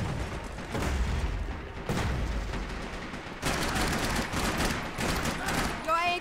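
Heavy, booming gunfire from dual pistols in Max Payne 3 multiplayer comes in several dense volleys separated by short gaps, ending with a brief ringing sound.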